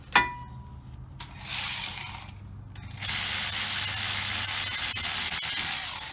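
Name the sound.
ratchet removing caliper bolt on Hyundai Veracruz rear brakes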